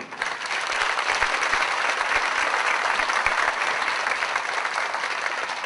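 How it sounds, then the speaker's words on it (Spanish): Steady applause fills a hall at the closing ceremony of a national community water management meeting, a dense even clatter of many hands that holds for several seconds, with no voices over it. "quiero pedirles para Rolando un aplauso."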